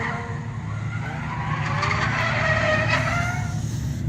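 A drift car spinning out, its tires skidding in a long rising squeal over a steady engine roar, loud and fairly close for a few seconds.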